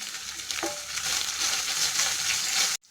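Green chillies, onion and curry leaves hit hot oil for vegetable fried rice, a loud, dense, close sizzle that holds steady for a few seconds before cutting off abruptly.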